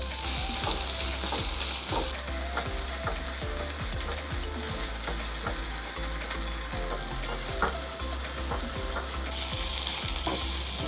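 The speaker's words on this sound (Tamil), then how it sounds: "இப்போ நம்ம நீட்டாக வாஷ் பண்ணி வச்சா புதினா அப்புறமா வெந்தயக்கீரை இதில் ஆட் பண்ணிடலாம்." Mint and fenugreek leaves fry in hot oil for mushroom biryani, giving a steady close sizzle with scattered crackles and occasional clinks of a stirring spoon, no talk.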